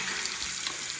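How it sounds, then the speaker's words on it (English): Water rushes steadily from a tap in a manufactured home, a full, continuous hiss of flow at moderate loudness with no breaks and no voices. "it'll be a straight stream of water"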